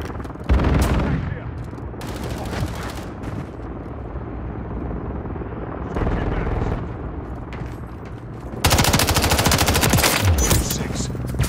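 Automatic gunfire in a Call of Duty game, with loud bursts of rapid shots broken by brief lulls and ending in a heavy, sustained volley up close.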